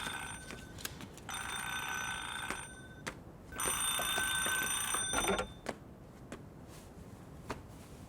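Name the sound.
telephone ringing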